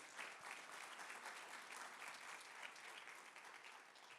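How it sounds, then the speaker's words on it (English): An audience at a university conversation event applauds the hosts and panel, a full, continuous burst of clapping from a crowd that stays dense and even throughout, though very quiet in level. "Ladies and gentlemen, another round of applause for our hosts and for our panel."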